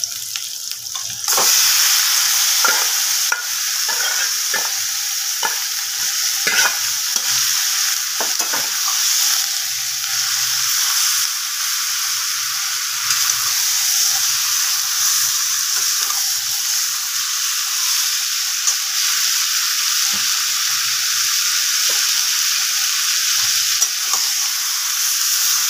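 Marinated chicken hits hot oil with fried onions in a pan, setting off a loud, continuous close sizzle with repeated scraping and clattering stirs throughout, and no talking.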